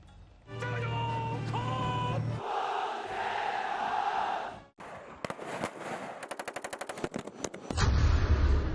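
Gunfire in the air at the Line of Actual Control, heard as rapid bursts of sharp shots in quick succession after a dramatic musical intro, loud and close.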